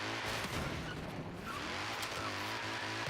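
Car tires squealing through a drifting turn in a racing video game, a continuous loud screech over a droning engine that ends in a spin, with no voices heard.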